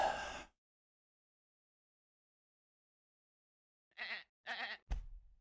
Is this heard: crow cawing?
no